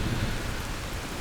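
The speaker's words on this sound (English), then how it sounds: "wonderful rain." Steady, dense rain falls in the survival video game Soulmask, a continuous close hiss of rainfall with no pauses, heard on its own without any voices.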